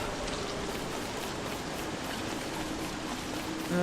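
Steady rain hisses across the whole stretch in the survival game Don't Starve, a soft, even patter without talk.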